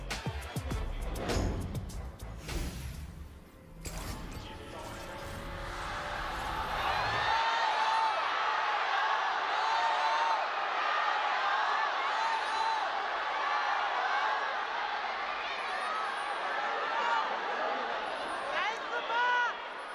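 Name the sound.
arena crowd cheering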